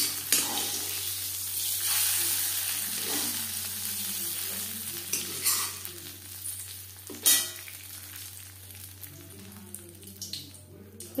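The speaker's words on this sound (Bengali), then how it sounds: "এই ফোড়ন বা তড়কা দিয়ে দেবো খিচুড়িতে" Hot tadka tempering poured into a pot of khichdi sizzles sharply, then settles into crackling and wet stirring scrapes with a few louder clinks, close and alone, with a steady low hum underneath.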